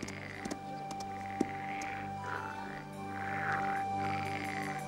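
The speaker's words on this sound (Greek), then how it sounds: "Μη μου πεις ότι φοβάσαι τα βατράχια." A frog croaks in a repeated, rhythmic series of raspy calls over a steady low hum, fairly close and clear, with no talking.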